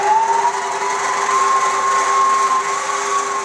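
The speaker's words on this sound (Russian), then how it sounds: "запускаем наш миксер и перемешиваем наш фарш" An electric mixer churns sausage mince for Kiev-style sausage with a steady mechanical whine and a droning motor hum that stays loud and unchanging throughout.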